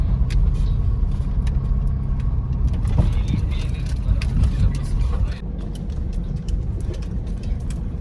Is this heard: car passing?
yes